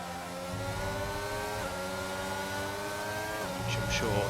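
F1 race cars battling for position in the F1 2022 video game at the Australia round, engines whining at high pitch and shifting gears as one car tries to overtake a Ferrari, with commentary running underneath.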